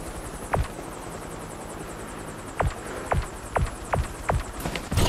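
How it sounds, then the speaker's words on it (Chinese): Helicopter in the police chase game NFS Assemble, its fast rotor chop pulsing steadily throughout, with several dull thuds and knocks over the drone. "你已登上直升机，请继续完成行动。"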